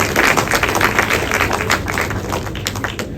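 Audience clapping at a cultural event in a hall: dense, continuous applause of many hands, fairly loud and steady before tapering slightly at the end.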